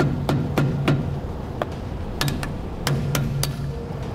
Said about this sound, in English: Use a screwdriver. We'll just tap it in there to get behind it.